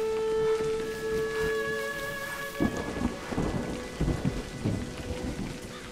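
A Scottish Highland thunderstorm in the game A Highland Song, with steady heavy rain drumming on a surface, sustained musical tones fading early, then several sharp crackling thunder cracks and rumbles close by, with no voices.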